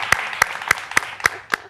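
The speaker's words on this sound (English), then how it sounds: "Give her a clap then." Hand claps for a guest on a talk show: six evenly spaced, sharp claps close by, fairly loud and alone, from what sounds like a single person or a very small group.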